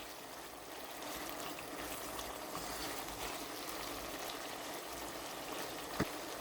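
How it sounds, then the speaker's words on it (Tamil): Pepper mutton frying uncovered in oil in an open pan gives a steady, even sizzling hiss that stays constant throughout, with one brief sharp pop near the end. "இப்போ நான் மூடியை திறந்து இதை அப்படியே பொரிய விடுறேன்."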